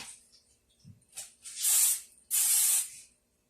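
White Rain unscented extra-hold hairspray aerosol spritzed onto a styled wig: a couple of faint short puffs, then two loud sustained hissing sprays close to the microphone, each lasting about half a second.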